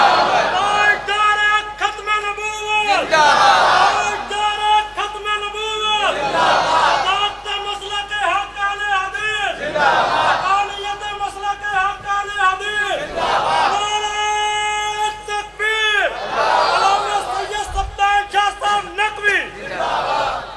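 Large crowd at a religious sermon gathering chants slogans in loud, repeated bursts, each cry rising and falling in a steady call-and-response rhythm throughout.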